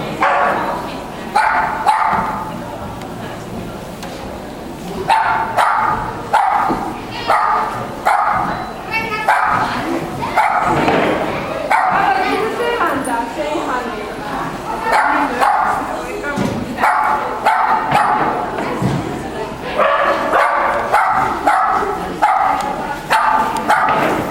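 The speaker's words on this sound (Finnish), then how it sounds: "Käpysnautseri Milla on sitten siellä seuraavaksi tulessa" A miniature schnauzer barks repeatedly at an agility competition, sharp yips in quick bursts throughout, under a continuous announcer's voice and arena noise.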